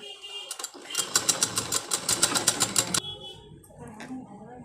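A sewing machine runs a fast, steady burst of stitching on a lined blouse for about two seconds, loud and close, then stops; a few handling clicks come before it and quieter rustling follows.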